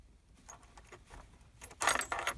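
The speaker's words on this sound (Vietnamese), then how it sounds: "ta bật chìa khóa sang phải" A crawler excavator's ignition key is turned one notch to the right in the cab, giving a brief jangle and click of keys on the key ring, close and fairly loud, with no engine running.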